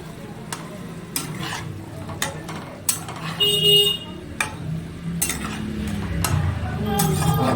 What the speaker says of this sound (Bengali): আমি ভেজে রেখেছিলাম সেই চিকেনগুলো এবার আমি এর মধ্যে দিয়ে দিচ্ছি। সসটার মধ্যে দিয়ে মিক্স নেড়ে করছো?